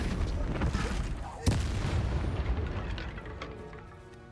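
Confringo blasting spells exploding in Hogwarts Legacy, a rumbling burst with one sharp crack near the middle, then a fading boom and debris-like tail, with a voice speaking under the noise.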